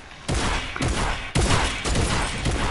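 Fortnite drum gun firing, loud bursts of rapid automatic shots separated by brief pauses, up close in a game match.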